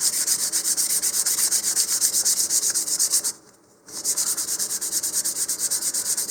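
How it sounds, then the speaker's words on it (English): Sandpaper lightly scuffs a model rocket nose cone for a Rocketarium Roland SAM build, a steady, close, rhythmic rasping of quick back-and-forth strokes with one brief pause midway. "now I'm going to go and just lightly sand the entire nose cone"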